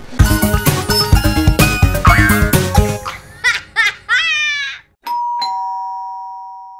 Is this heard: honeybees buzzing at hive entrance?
no